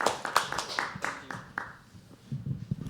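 Scattered clapping at a live poetry open mic: several sharp, close claps that slow and thin out, leaving quiet room noise and faint murmuring.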